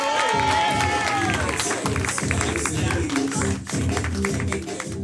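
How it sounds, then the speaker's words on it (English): An audience at a live game-show style main event applauds and cheers, a dense wash of clapping and crowd noise at moderate distance, with a voice briefly heard over the start. "Let's give her another round of applause"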